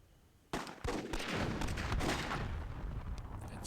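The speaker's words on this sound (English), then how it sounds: "It looks like Karma is getting gunned down by Silic" Gunfire in the strategy video game Myth II: Soulblighter on a World War II themed map, a sudden burst of rapid shots and blasts starting loud and running into a dense sustained rattle.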